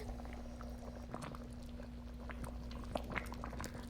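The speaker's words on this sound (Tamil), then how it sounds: "இப்போ பாருங்கள், சாம்பார் நல்லா கொதித்து வந்துருச்சு." Quiet bubbling and popping from a pot of fenugreek sprouts sambar simmering on the stove, with small irregular bursts over a low steady hum.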